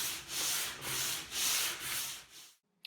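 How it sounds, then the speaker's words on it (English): Steady back-and-forth rasping of 80-grit sandpaper on a radius sanding block across a wooden guitar neck, about five strokes in an even rhythm, close and loud, ending abruptly. "I'm using a homemade radius sanding block with some 80 grit sandpaper"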